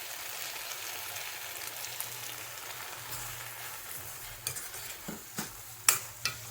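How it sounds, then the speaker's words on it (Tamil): Okra and onions sautéing in a pan, a soft steady sizzle under a low hum, with a few sharp scrapes and clacks of stirring near the end. "வெண்டைக்காயும் வெங்காயமும் கொஞ்சம் வதங்கின பிறகு தக்காளியை போடலாம்."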